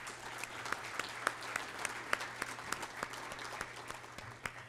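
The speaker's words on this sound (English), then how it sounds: "Let's give him a great round of applause." A modest audience at a health care event in Surrey applauds steadily, the claps crisp and sparse enough to pick out individual hands, recorded from some distance.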